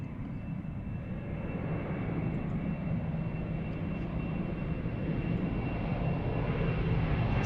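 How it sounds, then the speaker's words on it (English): A TAP Express Embraer E195 takes off slowly at Lisbon Airport, its jet engines producing a broad, steady roar that swells gradually and stays loud and distant throughout. "It's a very slow takeoff, this one."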